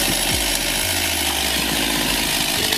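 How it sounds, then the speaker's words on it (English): A chainsaw cuts into a tree, its engine a loud, dense buzzing roar that holds steady for a few seconds with no other sound over it. "You really need to watch this video to see how fast a chainsaw kicks back."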